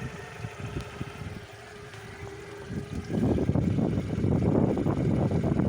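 A Suzuki 140 outboard motor, just repaired, runs near idle with a low, steady burble that grows louder and rougher partway through, heard fairly close with no talking.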